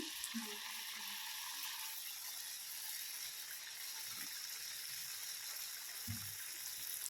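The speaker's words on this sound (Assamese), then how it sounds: "এইকেইটাও মই এতিয়া ভাজি লৈ আছোঁ" Ghila pitha, rice cakes made with coconut and jaggery, frying in oil with a soft steady sizzle and faint bubbling, plus a few low clinks in the background.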